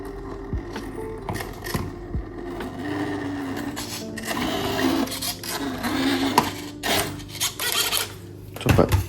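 A 1:18 Range Rover Classic RC car with a brushless FOC motor runs at full throttle indoors in a cluttered room. It gives a close, fluctuating electric whine with rasping, scraping bursts and knocks as it speeds around.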